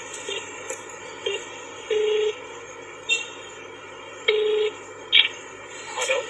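A telephone call being placed: a series of short dialing tones followed by repeated ringback tones, clear and moderately loud over a faint steady hum, with no talk.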